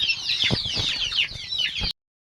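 Chickens clucking and squawking as they are caught for sale, agitated overlapping calls with thumps and wing flaps close by, cutting off abruptly.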